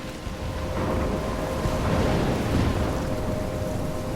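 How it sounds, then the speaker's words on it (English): Heavy rain pours down in a stormy night scene from Life Is Strange, with low rolling thunder swelling through the middle before easing, a dense continuous wash throughout. "I'm trapped in a storm?"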